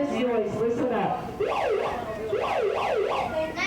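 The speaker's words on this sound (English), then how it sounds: "I think I hear a siren." An emergency vehicle siren wails in repeated rising and falling sweeps, loud and fairly close, alongside a voice at the start.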